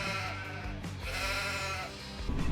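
Lambs bleating in Farming Simulator 25 as they are loaded from a pen onto a trailer: a steady chorus of overlapping calls, fairly loud and close, with no talk over them.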